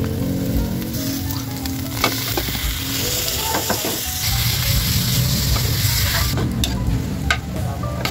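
Ground pork marinated in soy sauce, ground pepper and garlic sizzles and crackles steadily in a pan, with occasional sharp pops and scraping stirs, up close and with no talking.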